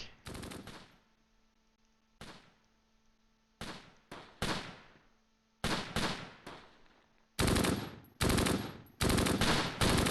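Bursts of automatic gunfire and single shots from World War II combat in the Close Combat strategy game, near and loud, coming in irregular clusters with short pauses between, no talk.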